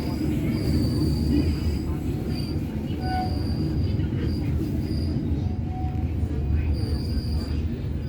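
A Parahyangan passenger train stopping at Kiara Condong station, steady heavy rumble of wheels with intermittent high brake squeals, with a person talking over the noise.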